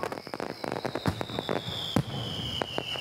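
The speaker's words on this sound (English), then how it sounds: "Duck and Percy joined the other engines for the fireworks." Fireworks go off in a rapid cluster of sharp cracks and pops, some louder bangs standing out, with a thin whistling tone trailing across the bursts.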